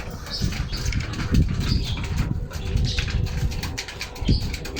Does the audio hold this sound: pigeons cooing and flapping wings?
yes